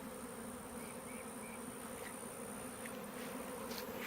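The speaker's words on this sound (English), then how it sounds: "So hopefully now the rest of the bees will follow her down into the box." Swarm of honey bees being drawn into a hive box after their queen, a steady, close buzzing drone that stays even and continuous throughout, with no speech.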